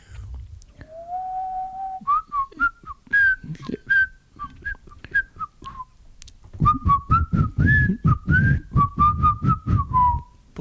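A person whistles a wandering melody of sustained and short notes, loud and close, with breathy gaps and a stretch of pitched whistling over rhythmic low thumps.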